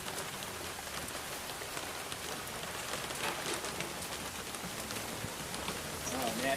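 Heavy rain pours down outdoors near a chicken coop, a dense, steady roar of drops on surfaces that stays loud and unbroken throughout, with no talking.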